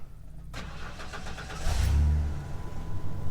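A sand- and water-filled van engine cranks, catches and settles into a rough idle, a brief starter click followed by a rising low rumble that swells then steadies, close by with no voices.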